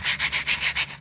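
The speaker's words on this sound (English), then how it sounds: "I like to give the drive shaft a bit of a sanding" Close, rhythmic rasping of sandpaper rubbed back and forth on a vehicle drive shaft, six quick strokes in about a second.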